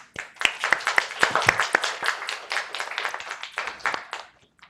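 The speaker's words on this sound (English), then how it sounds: "So let's give a round of applause for this duo." A small audience at a bilingual Korean-English poetry reading claps for a performing duo: sparse, distinct hand claps building into a light round of applause that thins out and stops near the end.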